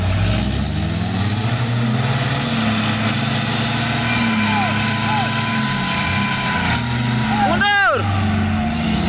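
A truck engine labours and revs while hauling out a palm-fruit truck sunk on a slippery road, a steady low drone under shouting voices, with a sharp hissing burst near the end.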